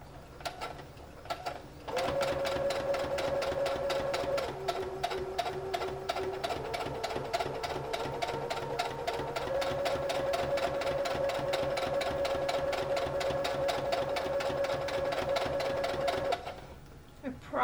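A sewing machine stitching a mock-up of 18th century stays, running steadily and close for about fifteen seconds with a fast rhythmic whir and a faint tonal hum, starting and stopping abruptly.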